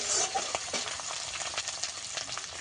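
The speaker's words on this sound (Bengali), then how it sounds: "এই মশলাটাকে কিন্তু বেশিক্ষণ কষাবো না দিয়ে একটু উল্টো পাল্টে" Spice paste being stirred and fried in a pan, a continuous close sizzle broken by repeated scraping strokes of the spoon.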